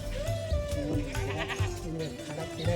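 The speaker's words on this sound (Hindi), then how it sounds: "जहाँ मुझे ये प्यारे से बकरी के बच्चे भी दिखे" Young goat kids at an old Aryan house in Kargil bleat in short, wavering cries, several overlapping calls close by against a busy outdoor background.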